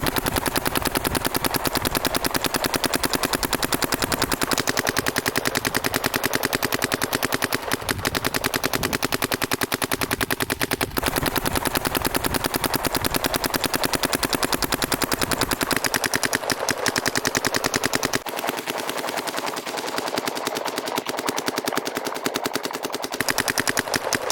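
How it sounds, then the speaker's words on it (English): A DLX Luxe TM40 paintball marker fires in a long, fast, continuous string of shots, loud and close, with only brief pauses over about twenty-four seconds. "we got the Luxe TM40 here. See how she sounds."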